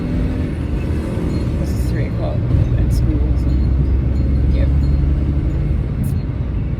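Steady, loud road-traffic rumble heard from inside a van driving in traffic near Newcastle, with a constant low engine and tyre drone throughout and a voice talking over it.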